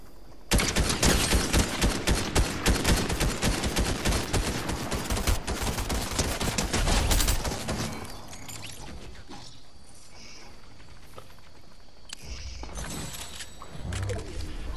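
Dense, rapid gunfire from players fighting in a VR battle royale game, a loud sustained burst of overlapping shots for several seconds that then drops to sparse, quieter pops and ambient game noise.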